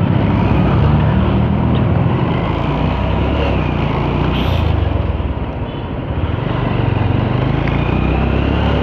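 Steady broadband engine and road roar while riding through a traffic jam, with a continuous rumbling drone close by and no voices.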